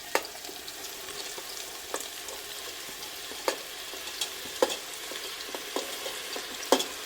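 Tomatoes and coriander frying in a pan with fenugreek leaves, a steady close sizzle broken by scattered sharp clicks of stirring, no voices.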